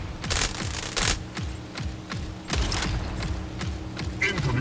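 Gunfire in the mech combat video game Mecharena: rapid bursts of automatic shots mixed with heavier booming blasts, loud and continuous over busy game sound.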